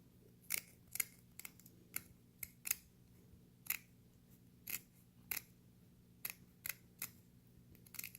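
Scissors snip through stiff mascot head material in short, crisp cuts at an uneven pace, close-up and quiet over a low background hum.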